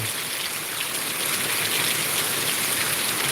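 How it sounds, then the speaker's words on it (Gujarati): A downpour of heavy rain falls across fields in Gujarat, producing a thick, unbroken wash of hissing patter with a low rushing undertone of running water, steady and close from start to finish. "વરસાદ પડે છે"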